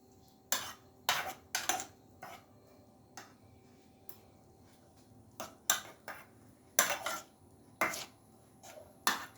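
Eggs for a pancake-style batter are mixed in a bowl, giving short bursts of utensil clatter and scraping against the bowl in uneven clusters, close and clear, with quiet gaps between strokes and no talking.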